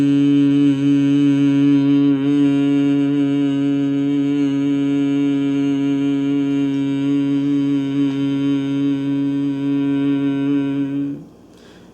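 A single voice chants a long, steady Om in a low drone that holds for about eleven seconds and then fades away. It is loud and close, with no other sound.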